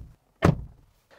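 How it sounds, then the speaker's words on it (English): A 2024 Kia Sportage car door swings shut with a single solid, close thunk, followed by a faint rattle and quiet tail, with no talking. "As what the door sounds like."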